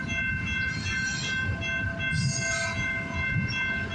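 A CN freight train passes on the Dundas Subdivision, a steady loud rumble of rolling cars with a sustained horn tone over it and no pauses throughout.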